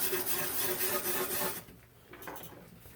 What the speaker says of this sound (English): I like to clean it with lacquer thinner